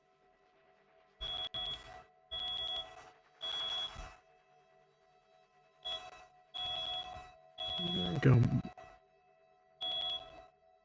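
A household smoke alarm sounds in repeated bursts of shrill beeping, about eight separate chirping pulses spread irregularly, fairly loud and clear, with a brief rustle and a single spoken word partway through.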